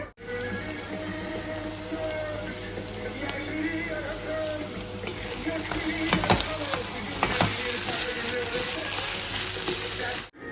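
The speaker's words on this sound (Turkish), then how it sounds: "Soğan hafif kavruldu. Şimdi hafif patates de kavrulacak." Onion and potatoes frying in a pan make a dense, continuous sizzle that swells slightly toward the end, with a couple of brief stirring scrapes, close and steady throughout.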